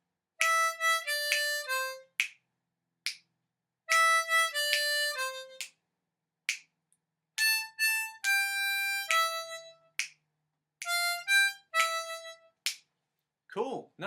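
Harmonica plays a verse line in short, bright phrases of several notes each, broken by gaps of silence and a few quick breaths. It sounds close and clear with no talking.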